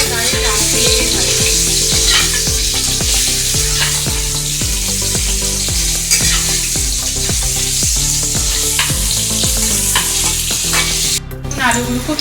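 Salted potatoes fry in a wok for a Bengali mutton curry with a loud, continuous sizzle, while a spatula stirs and scrapes in a steady rhythm of repeated strokes close by.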